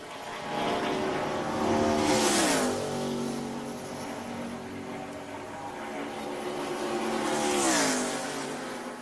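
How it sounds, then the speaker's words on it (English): A NASCAR Busch Series race car on a Talladega qualifying lap roars past twice, its engine note swelling near and then dropping in pitch as it passes, with a steady drone in between. "It didn't have that real crisp sound when it came underneath us here at the start-finish line."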